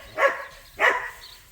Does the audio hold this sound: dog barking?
yes